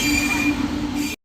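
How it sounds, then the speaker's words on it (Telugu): An Indian passenger train leaves Renigunta on its way from Tirupati to Madurai. A loud, close metallic wheel squeal and steady rail rumble run for about a second before cutting off abruptly. "5:11కి రేణిగుంట నుంచి అయితే మన ట్రైన్ అనేది స్టార్ట్ అయింది"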